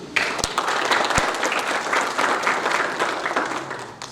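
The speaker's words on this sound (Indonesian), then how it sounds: "Tepuk tangan dulu." An audience claps steadily at a children's congress held by a city children's forum in Kediri, with dense, even applause from a moderate-sized crowd for about four seconds and a couple of sharp knocks near the start.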